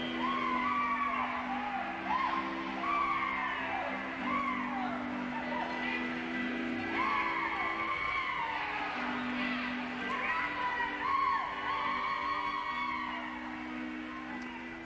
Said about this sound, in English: I'd like to find out who that is I keep hearing in the background, because she's cheering for a whole lot of horses